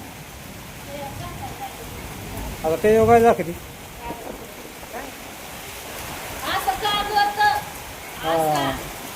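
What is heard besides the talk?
rain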